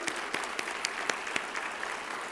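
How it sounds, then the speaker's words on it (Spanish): Applause from a youth political gathering in Mexico, fairly quiet and distant, with a few sharper individual claps standing out over a steady wash of hands. "Un aplauso desde aquí"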